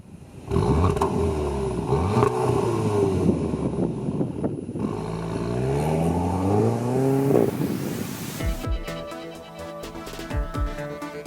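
A 2016 Audi TT Roadster's 230 hp 2.0 TFSI engine roars as it accelerates through several rising gear pulls, loud and close, ending in a rattly, lumpy idle.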